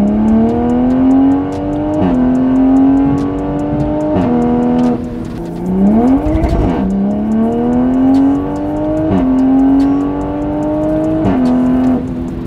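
New Toyota Supra with a ZF 8-speed automatic accelerating hard, the engine note rising steadily through several quick upshifts with brief dips between gears, loud and close, one shift marked by a throaty burst, with no talking.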